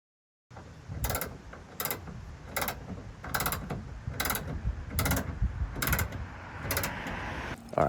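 Clamps on a leaking window are ratcheted down with a regular series of sharp clicking bursts, about one each second. Each burst sits over low rubbing and creaking and sounds close and moderately quiet.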